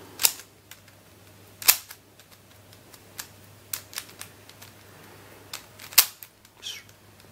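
An old Dayan 3x3 speed cube being turned to test corner cutting, giving sharp, sparse plastic clicks and snaps at irregular intervals, close and alone.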